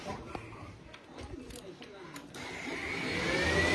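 A 2006 Yamaha R1 motorcycle engine starts about midway through, its steady running note rising and growing louder over a low garage hum after some handling noises.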